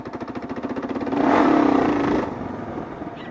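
A Kawasaki KLR650 single-cylinder motorcycle in second gear, its thumping idle rising into a brief hard throttle rev that swells loudly for about a second, then falls back to a steady chugging idle, close up with no talking.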